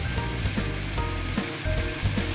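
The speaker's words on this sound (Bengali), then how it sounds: "এখানে আমরা সমস্ত সবজিগুলো খুব ভালোভাবে ভেজে নিচ্ছি" Mixed vegetables frying in a pan for a jackfruit seed curry: a steady, loud sizzle with faint rhythmic scraping or clinking from stirring, continuous with no talking.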